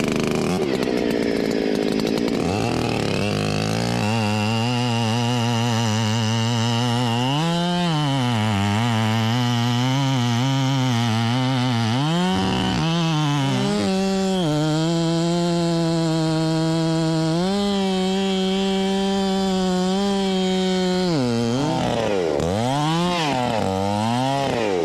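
A ported Husqvarna-style 395 chainsaw with a 42-inch bar and full-comp chain cuts into a tree. The engine roars loud and close, bogging and revving as the cut loads and unloads, with no talk.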